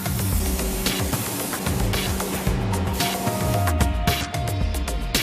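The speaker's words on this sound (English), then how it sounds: "A cocktail of bronze powder, dissolver, and thickener is sprayed onto the metal surface to fill any pores and give the frame a smooth finish." Spray gun hissing a bronze powder, dissolver and thickener mix onto a grand piano's metal frame, bursts of spray with short pauses between passes, close and steady, with some mechanical clatter behind.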